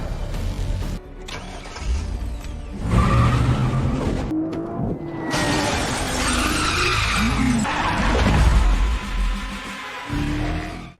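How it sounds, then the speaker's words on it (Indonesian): A stolen car skids away from a garage during a getaway, with loud tire squeals, revving engine and a roaring skid, plus thuds and a dramatic background score throughout. "Megan membantu Gemma melarikan diri ke garasi dan mencuri mobil untuk kabur."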